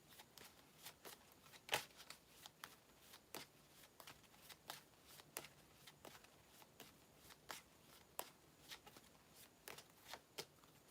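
Tarot cards being shuffled by hand, a steady run of crisp riffling flicks and soft slaps close up, repeating throughout with no voices.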